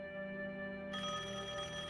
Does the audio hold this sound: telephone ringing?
yes